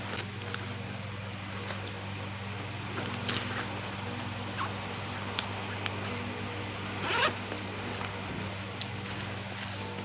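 A bag's zipper is pulled open in a quiet indoor room, a soft continuous rasp with one brief louder zip near the end, close to the microphone and with no talking.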